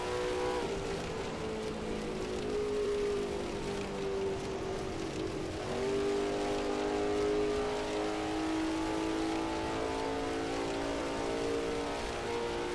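A 1930s Auto Union Grand Prix race car at the Tripoli circuit in Assetto Corsa drones steadily with a sustained engine tone that shifts pitch slightly mid-way, under a constant hiss resembling rain, with no talking.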